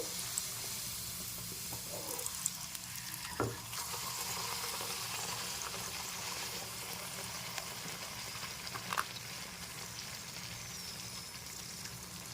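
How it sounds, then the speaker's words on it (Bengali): Stuffed green-pea kachoris deep-frying in hot oil over lowered heat, a soft, even bubbling sizzle throughout with a couple of faint knocks as they are turned, quiet and without voices. "এভাবে একটু উল্টিয়ে পাল্টিয়ে ভেজে নিচ্ছি কচুরিগুলো"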